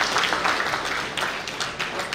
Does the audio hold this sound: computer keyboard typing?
no